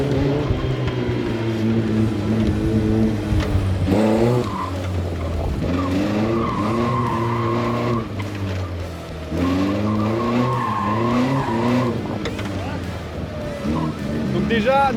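Caterham race car in a gymkhana session, its engine droning steadily while tires squeal and skid through repeated turns, loud and close, with people talking over it throughout.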